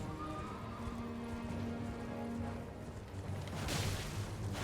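A horse in the video game Elden Ring gallops with a steady clip-clop of hooves during a mounted fight, ending in a loud neigh, close and clear with no talking.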